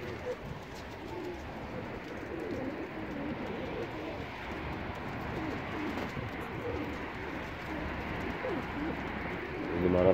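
Pigeons in a loft cooing steadily as a soft, low murmur under a dense bed of rustling and ambient noise, continuous throughout.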